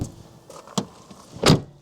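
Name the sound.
VW T6.1 camper van doors closing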